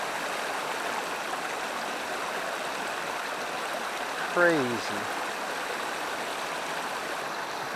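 Goshen Creek, a small trout stream off the Blue Ridge in western North Carolina, rushes steadily nearby with a constant watery hiss, while someone briefly speaks over it.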